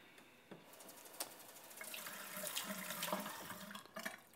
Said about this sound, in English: So I'm filling up my rice cooker bowl with water to wash the basmati rice and mung dal